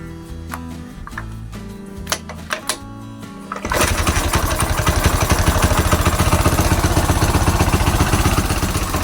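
A scooter engine with a stock magneto and a 4-pin CDI is cranked with a few clicks and knocks, then fires and settles into a loud, steady, rapid buzzing idle nearby.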